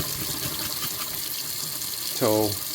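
Fodder seeds are rinsed in water, a soft steady wash of running water with a brief louder gush near the end and no talk.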